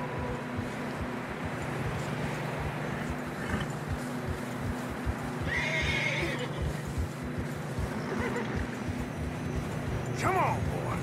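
Tired horses whinny a few times in Red Dead Redemption 2 over a steady background of plodding hooves through fresh snow and wind, with voices talking intermittently.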